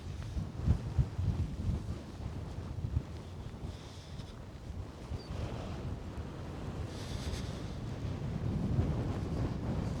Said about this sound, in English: At the back here, this is where the wind's coming from.